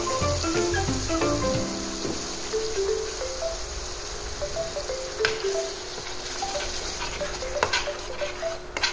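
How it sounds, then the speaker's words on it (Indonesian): Spice paste sautéed in a generous amount of oil, a steady sizzle with occasional scrapes and taps of a utensil, under faint melodic background music, no voices. "ini bumbunya ditumis pakai minyak"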